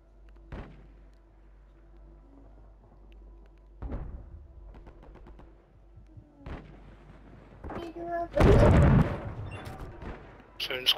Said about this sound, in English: I'm shooting into the right